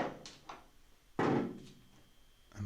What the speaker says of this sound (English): There's one sun visor clip still in place, so I just push the dowel through